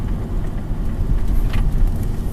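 Low steady engine rumble and road noise from inside a ZipCar rental car being driven through Bed-Stuy, Brooklyn, continuous with no talking.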